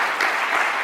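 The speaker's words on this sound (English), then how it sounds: "join me in one final round of applause for our terrific speakers" An audience at an HR legal-issues seminar gives a final round of applause for the speakers. Dense, steady clapping fills the entire short moment, close and fairly loud, with no voices.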